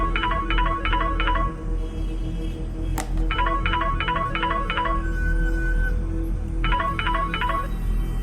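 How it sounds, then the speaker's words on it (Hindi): A mobile phone rings with repeated bursts of electronic tones in short groups, separated by pauses, over a steady low background hum; no one speaks. "तभी अचानक ही नक्श का मोबाइल बज उठा।"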